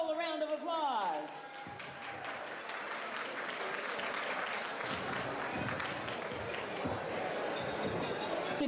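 Steady applause fills a ballroom gala as an audience claps for a presenter; a brief voice opens the moment before the clapping takes over, dense and sustained throughout.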